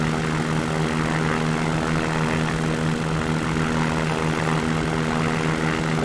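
Steady, droning propeller engine of a tail-dragger aircraft in the X-Plane 11 flight simulator, a constant loud hum with a strong low tone throughout and no pauses.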